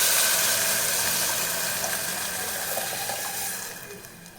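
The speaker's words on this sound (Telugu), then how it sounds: "మనం రెడీగా ఉంచుకున్న ఈ టమాటా చారుని ఇందులో వేసుకోవాలి" Tomato rasam pours from a vessel into a hot pan, a steady close rush of liquid that gradually fades as the pour ends.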